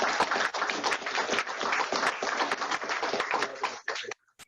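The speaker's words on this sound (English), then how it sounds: "So let's give them a round of applause." Audience applause at a fall student showcase, a dense, steady wash of many hands clapping for about four seconds before cutting off.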